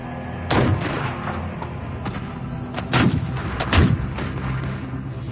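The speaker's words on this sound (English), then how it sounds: "Under fire from two sides, Izard orders his troops to keep advancing" Musket volleys and artillery booms from a War of 1812 battle reenactment, several heavy thumping blasts at irregular intervals over a continuous rumbling battlefield background.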